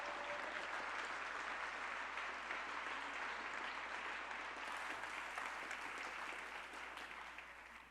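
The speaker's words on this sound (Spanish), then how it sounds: "Bueno, un aplauso, sí, que se quedó corto." Audience applause at a human rights congress opening ceremony in Bogota, a faint, dense and steady wash of clapping from a large hall that gently fades near the end.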